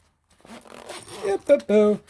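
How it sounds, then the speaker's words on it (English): A fanny pack zipper closes in a few quick, close rasping pulls, each stroke short and crisp, following a brief stretch of softer handling noise. "Zips up nicely."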